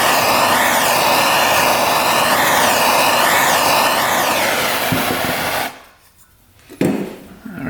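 A heat gun blows steadily on a dirt bike's two-stroke crankcase, a loud, constant whooshing hiss with a slight wavering whine, then it cuts off abruptly into near silence before a short clunk.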